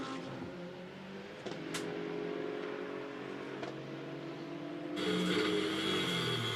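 GT2 racing cars accelerating on the straight at Hockenheim during a race, engines droning at a distance with rising pitch, growing louder toward the end as another car comes through.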